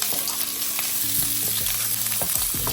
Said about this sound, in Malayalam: അതിലേക്ക് നമുക്ക് അരിഞ്ഞ് വെച്ചിരിക്കുന്ന സവോള, കൊച്ചുള്ളി, വെളുത്തുള്ളി, ഇഞ്ചി, കറിവേപ്പില ആഡ് ചെയ്യാം.